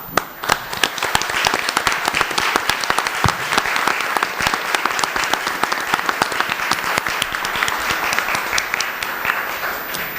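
An audience gives a round of applause to students standing up during a Kern County supervisor debate, dense and loud clapping from a full room, continuous and energetic from start to finish.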